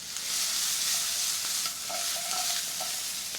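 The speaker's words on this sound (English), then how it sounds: "Continue to saute." Vegetables for roasted poblano potato soup sautéing in a pan, with a bright, steady sizzle and a few soft scraping stirs near the end.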